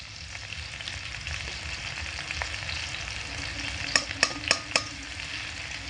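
Ground spices such as cumin and garam masala sautéing over low heat in a pan, a soft continuous sizzle with a quick run of four clacking stirs near the end.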